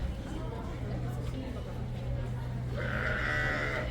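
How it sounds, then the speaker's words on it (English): Goats bleating in the background, with a louder sustained bleat near the end, over a steady low hum and some faint chatter. "the animal sounds you hear in the background, they've got some goats over there."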